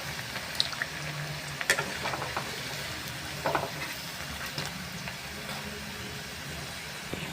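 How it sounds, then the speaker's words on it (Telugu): Onion pakoda deep frying in hot oil, a steady close sizzling hiss with occasional spatter pops and stirring clinks, moderately loud and continuous. "ఒకవైపు ఫ్రై అయ్యాక రెండో వైపుకి తిప్పుకొని ఫ్రై చేసుకోండి."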